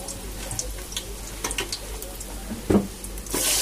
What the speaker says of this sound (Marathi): आपलं तेल गरम झालंय. मी थोडा कढीपत्ता टाकते